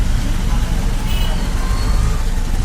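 Road traffic jam of cars and buses, a dense continuous rumble of idling and creeping engines close by, steady throughout without distinct horns.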